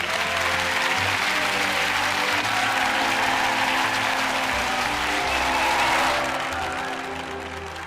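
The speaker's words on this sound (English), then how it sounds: "Come on, let's have a huge round of applause for Ebony." A studio audience at a live television show applauds loudly and continuously, with a few cheers mixed in before the clapping tapers off toward the end.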